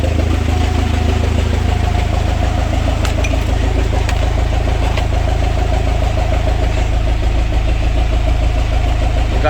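A Chevrolet Captiva NFL diesel engine, woken after two years of sitting, runs at a steady, loud idle throughout, with a deep, even rumble and faint ticking on top.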